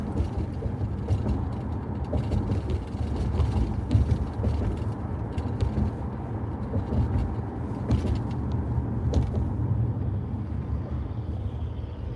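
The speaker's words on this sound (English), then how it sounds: "Can you guys hear the Camaro next to me?" A Chevrolet Camaro engine idles close by, a steady low rumble with mechanical clatter running continuously without talk.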